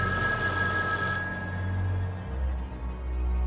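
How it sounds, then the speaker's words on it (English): A telephone rings in the middle of the night, a steady electronic bell tone that sounds continuously for about a second before fading out, leaving a quiet low hum. "The phone stopped ringing."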